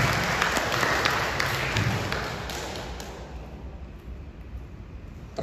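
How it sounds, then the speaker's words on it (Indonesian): An audience at an Indonesian disaster preparedness and mitigation outreach event for the 80th Independence Day gives loud, dense applause that tapers off gradually, with a few sharp claps standing out. "Tepuk tangan untuk kita semua."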